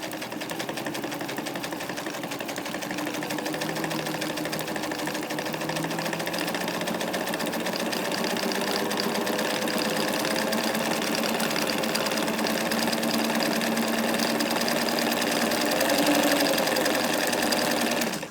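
Continuous close mechanical whirring of a Singer Bobina Mágica 268 sewing machine stitching a three-step zigzag, a steady rapid chatter of the needle that holds evenly throughout, with no talk.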